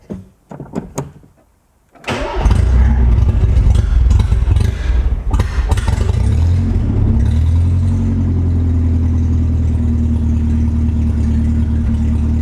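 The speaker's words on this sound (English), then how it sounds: "I'm going to have to start the engine here briefly to find out." A car engine cranks and catches after a few soft clicks, then settles into a loud, steady, rumbling idle close by, with a deep low drone running to the end.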